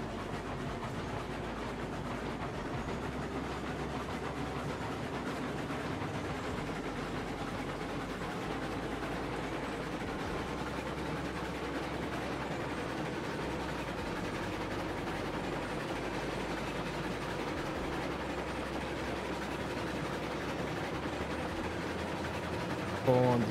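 Steady low rumble of a locomotive slowly pushing a train in Railroads Online, continuous droning engine and rolling noise with faint periodic rail clunks throughout.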